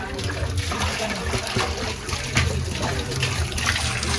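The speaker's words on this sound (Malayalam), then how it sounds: "നമുക്ക് വെള്ളം ഒഴിച്ചിട്ട് നിറച്ചിട്ട് കാണാം" Water pours into a rice cooking pot while food is prepared for a large Kerala wedding feast, a continuous trickling and splashing stream at close range.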